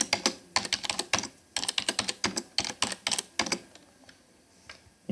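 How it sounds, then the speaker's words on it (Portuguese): Rapid bursts of computer keyboard typing while entering values into spreadsheet cells, close and crisp, with short pauses between runs of keystrokes and no talking. "Vou digitar uns valores aqui."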